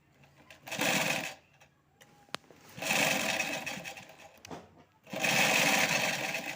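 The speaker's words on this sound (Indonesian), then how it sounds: "Itu lagi ngobras" An overlock sewing machine stitching a pocket for a kebaya runs in three close, fairly loud whirring bursts, separated by short pauses with faint handling clicks.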